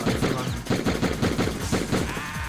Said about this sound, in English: Yeah, M60. I've got a machine gun.